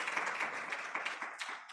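An audience applauds at a South African Internet Governance Forum conference session. The clapping is steady and moderately loud, with no voices over it.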